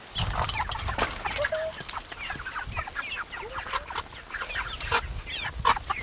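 Meat and laying chickens cluck and chatter continuously nearby, with overlapping short calls from several birds and an occasional sharper squawk.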